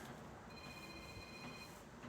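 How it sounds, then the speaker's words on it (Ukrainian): A telephone rings in a house under construction during a fireplace stove install, a thin steady electronic tone held for over a second, faint beneath a loud hum of background noise. "як завжди, дзвонить телефон."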